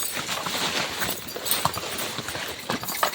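Hooves of a horse hauling coconuts in Tayabas clip-clop in a quick uneven rhythm close by, mixed with rattling and scraping, with no voices over the short stretch.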